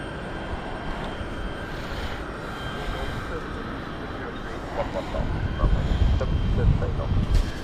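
A Globe Air Cessna Citation Mustang business jet at London City Airport, its engine roar building steadily as it readies for takeoff, heard from a distance beneath someone talking.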